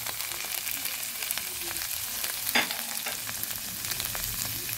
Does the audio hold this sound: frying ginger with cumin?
yes